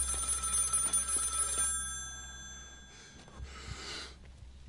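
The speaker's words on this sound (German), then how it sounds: "Das Telefon juckt ihn nicht, wa?" In the horror game Maid of Sker, an old telephone rings with a bright metallic bell for about two seconds and then stops, leaving a quiet eerie room tone with faint shuffling and a soft breathy noise.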